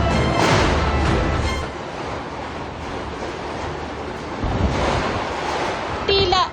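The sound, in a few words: strong wind gusts in a storm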